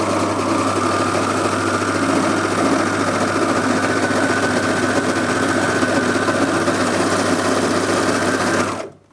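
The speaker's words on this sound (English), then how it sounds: "Now overlockers are generally noisy by the very nature, all the components that they have" A Brother Airflow 3000 overlocker stitches cotton fabric in a loud, steady mechanical whir with a fast rhythmic clatter, running continuously at close range before stopping abruptly at the end.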